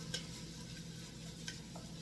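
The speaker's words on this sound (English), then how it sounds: "I'm gonna go ahead and add the tomato." Tomato sautéing in a pan for chickpea soup makes a soft, steady sizzle with a couple of light utensil taps against the pan.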